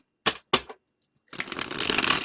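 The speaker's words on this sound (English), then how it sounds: "I think I've shuffled enough times." Tarot cards being shuffled by hand, two sharp snapping riffles followed by a pause, then a longer continuous shuffling rustle, close and fairly loud.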